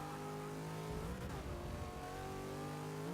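A race car in the Forza video game accelerates down a straight, its engine note climbing through the gears in a steady, moderately loud revving tone with a brief shift dip, and no voice over it.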